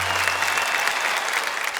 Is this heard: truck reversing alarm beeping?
no